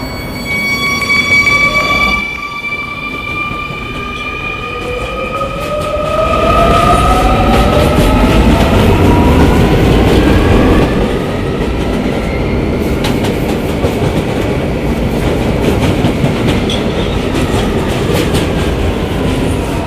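Inside an R220 subway train riding the 11 line, a loud rumble and rhythmic wheel clatter run steadily throughout, with rising and falling whines from the motors.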